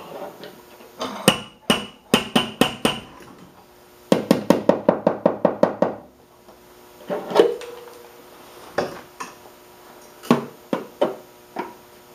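A body hammer striking the metal body panel of a Subaru, sharp ringing metallic blows in quick bursts and rapid runs separated by short pauses, close and loud with no talking.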